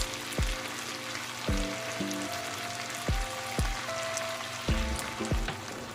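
Homemade pork tapa fries in oil in a pan, a steady crackling sizzle with periodic low clinks and thumps of utensils against the cookware, no talking.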